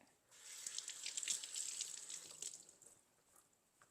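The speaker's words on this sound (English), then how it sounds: "I'm going to add some parsley. Give this a rinse." Tap water running over fresh parsley being rinsed under a kitchen faucet while making chicken broth, a steady close splashing hiss that starts, runs for about two seconds and tapers off, with no talk.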